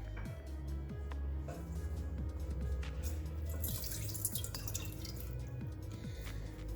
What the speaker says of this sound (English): Here with me I have a large pot which I'm going to dump 1 cup of water into it.